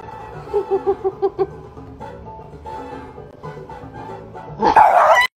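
A few quick dog barks in a short burst, then a louder, shriller yelping or howling outburst near the end, close and excited.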